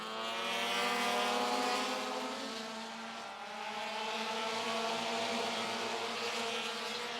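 Pro compact race cars circle the oval at Mt. Lawn Speedway, a steady layered engine drone from several cars that swells, dips as they pass, then builds again, fairly distant and with no talk.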